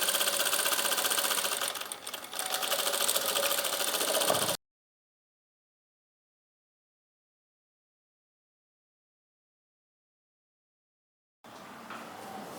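A sewing machine stitches a fabric pouch with a steady, loud mechanical whir for several seconds. It stops into silence and then resumes briefly at the end.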